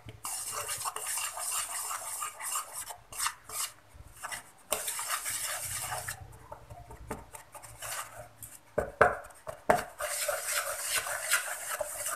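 Cookie dough for date cookies being stirred in a bowl, with repeated scraping and clacking of a spoon against the bowl in uneven bursts separated by brief pauses, close up and without talk.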